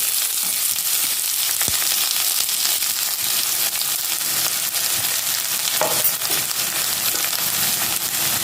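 Onions frying in oil, a loud, dense, continuous sizzle with occasional crackles and faint stirring, heard up close with no talk.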